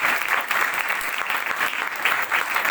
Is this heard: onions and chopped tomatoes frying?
no